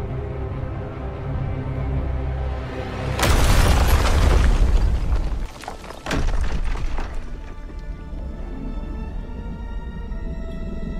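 Heads blow apart from implanted bombs in a Suicide Squad video game cutscene: a loud booming blast lands partway through, followed by a second sharp burst, over a low rumbling score.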